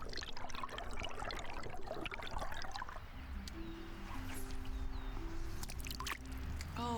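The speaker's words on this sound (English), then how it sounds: "I hope you enjoy this behind-the-scenes look at me standing in a river recording some sounds." River water flowing around someone standing in it to record sounds for a video game: continuous close splashing and trickling, with brief tonal hums and small splashes over the steady wash.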